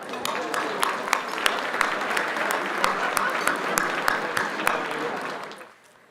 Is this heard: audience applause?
yes